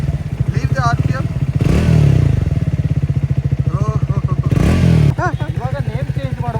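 A Triumph Speed 400 motorcycle, a 400cc single, idles with a loud steady thumping close by and rises twice into short revs, while people talk over it.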